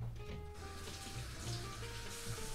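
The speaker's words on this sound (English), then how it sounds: "I'm gonna wash my hands" Tap water runs steadily into a sink as hands are washed beneath it, a continuous close splashing hiss with no break.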